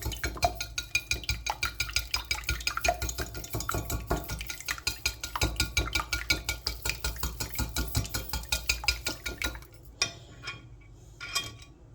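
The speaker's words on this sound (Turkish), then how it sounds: "Şöyle yumurtalarımı güzelce çırpıyorum" Eggs with red pepper powder and a teaspoon of salt being whisked briskly in a bowl, a fast, even clatter of utensil strikes against the bowl that runs on steadily and then slows into a few scattered taps.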